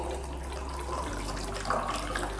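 Water pours steadily into a container of rice, a continuous splashing stream that briefly gets louder toward the end, close and alone with no talk.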